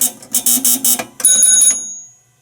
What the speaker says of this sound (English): the bell rings and the buzzer.